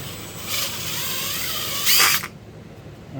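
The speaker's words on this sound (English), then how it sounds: "Just drill that out a little bit bigger." A power drill whirs steadily at close range, enlarging a hole in a security camera speaker housing, rising into a brief louder burst before cutting off into quiet.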